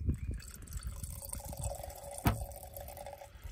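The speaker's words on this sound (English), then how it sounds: "So we'll just pour out the liquid." Rubbing alcohol poured out of a mason jar during a varroa mite check, a soft continuous trickle and splash with a brief louder gush midway, faint and close.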